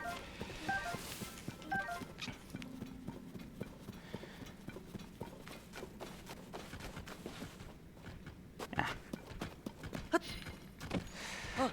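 Horse hooves clop in a stable in the video game Zelda: Tears of the Kingdom, with a busy run of irregular, fairly faint hoof knocks mixed with light game sounds.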